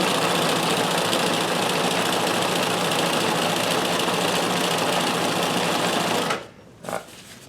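Vintage sewing machine running with a stretch stitch cam at a short stitch length, a steady close whirring, rapid mechanical hum that holds for about six seconds, then cuts off with a brief final burst.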